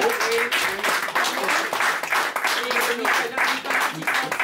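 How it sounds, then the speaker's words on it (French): Applause from a small gathering at a jovialist Christmas party at a host's home, fairly close and dense, with voices talking over the clapping throughout. "va applaudir lui aussi"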